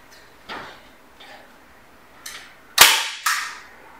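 Handheld staple gun driving staples through a rubber garage door seal into wood, several sharp snapping clacks at irregular intervals, the last two loudest and close, with no voices.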